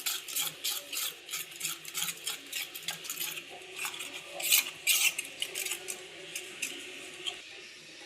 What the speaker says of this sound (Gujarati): એમાં આપણે એડ કરી દઈશું અને સરસ રીતે મિક્સ કરી લઈશું